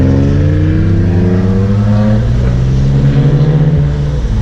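A car pulls away and accelerates onto an Okinawa expressway during a poker run, its engine close and loud, pitch rising through the gears in a continuous strong drone with no talking.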